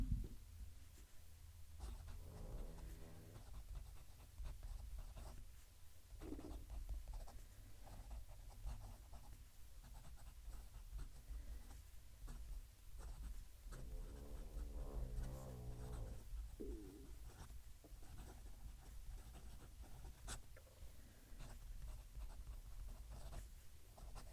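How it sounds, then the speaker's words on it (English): A gold-nibbed fountain pen writing on paper, heard close up: continuous soft scratchy strokes in short bursts with small pauses, quiet and alone, with no talking. "I'll move the mic and we'll do some writing."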